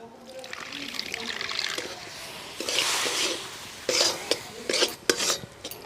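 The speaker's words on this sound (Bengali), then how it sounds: "এবার আমি অল্প করে জল দিয়ে দেবো" Water poured in small amounts into semolina already mixed with ghee, heard as soft trickling and stirring with a few light clinks of utensils against a bowl, close and fairly quiet.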